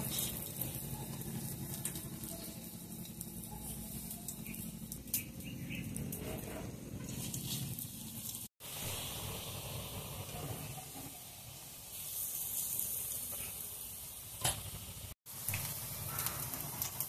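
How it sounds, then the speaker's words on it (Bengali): Coriander leaf fritters fry in hot oil in a karahi, giving a steady, close, continuous hissing sizzle that is broken only by two brief cuts, with no voices. "এখন আমি বড়াগুলো একটা একটা করে দিয়ে ভেজে নেব"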